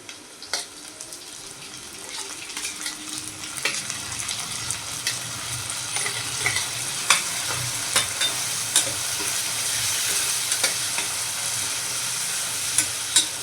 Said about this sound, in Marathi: आता आपला कांदा झालेला आहे आता आपण टमाटर टाकूया